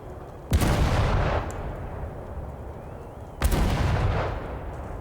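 Two loud, close sniper rifle shots in the virtual reality shooter game Sniper Elite VR, set in a warehouse, about three seconds apart, each a sharp blast with a long rumbling echo tail.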